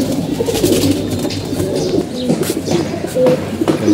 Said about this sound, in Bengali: আমাদের কবুতরগুলো আপনারা দেখতে পাচ্ছেন,